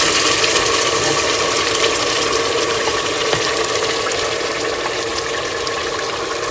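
Crushed garlic and ginger hit a hot pan of lightly browned oil for a beef bong recipe, giving a loud, steady, dense sizzle and crackle that holds evenly throughout, with no voices.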